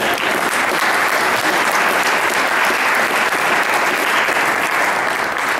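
A church congregation bursts into steady, loud applause that stays dense and even throughout, with no voices standing out above the clapping.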